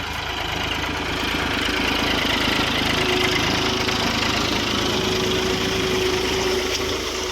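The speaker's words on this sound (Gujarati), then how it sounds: "ટ્રેક્ટર ચાલુ છે" A tractor engine runs steadily during sowing work in a farm field, sounding as a loud, close, continuous diesel rumble with a rough knocking texture and no break or change in pace.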